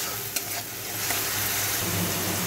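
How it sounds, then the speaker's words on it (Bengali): Chopped spice paste sizzles and fries steadily in hot oil in a pan, with a couple of stirring scrapes near the start, close and continuous with no talk. "মশলাটা তেলের সাথে খুব ভালো করে কষিয়ে নেব।"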